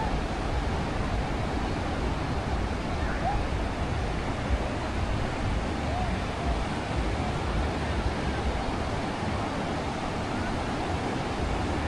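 Surf and wind on Arambol Beach in Goa form a dense, steady rushing roar that fills the whole stretch evenly, loud and unbroken with no distinct voices standing out.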